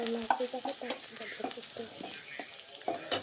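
Chopped ginger and garlic stir-fried in a little oil in a wok while chicken soup is being made, with busy scraping and stirring over a soft steady sizzle that continues throughout.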